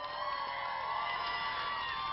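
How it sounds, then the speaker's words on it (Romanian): Steady crowd cheering and applause fill a celebration marking AGEPI's 25th anniversary, a dense, continuous roar of many voices at an even loudness throughout. "Aplauze pentru AGP la mulți ani!"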